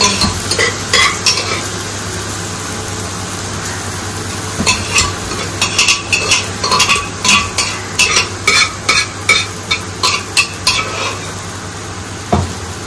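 Vegetables with mustard frying in a pan, with a steady sizzle under repeated rhythmic scrapes of a spatula stirring against the pan, close and clear, with no talking.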